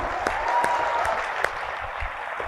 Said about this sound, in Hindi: जोरदार तालियां दोनों के लिए होनी चाहिए।